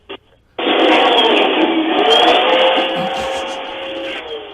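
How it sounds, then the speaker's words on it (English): Continuous rasping, scraping noise like sawing, heard through a caller's narrow-band phone line, loud and steady for several seconds after a brief blip, with no talk over it. "Apparently, Les is like sawing stuff."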